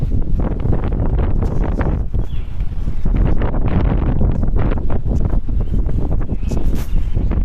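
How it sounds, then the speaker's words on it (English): Strong wind buffets the microphone continuously, with loud roaring gusts and no voices. "It is very windy out here."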